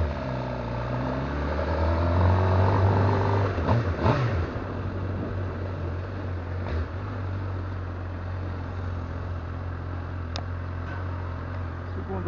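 Motorcycle engines idling and revving at a nighttime motorcycle meet, a steady rumble of several bikes with a louder rev early on and faint crowd noise, no talk.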